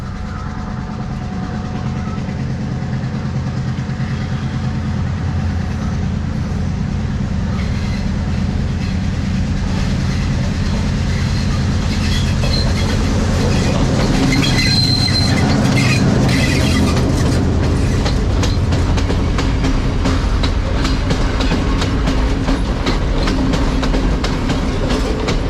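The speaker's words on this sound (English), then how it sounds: "You just saw the beautiful and newly introduced Calypso train which runs between Badulla and Bandarawela" The Calypso passenger train rumbles past close by in the Sri Lankan hill country between Badulla and Bandarawela for a long stretch, wheels clattering rhythmically over the rails with a loud, steady roar.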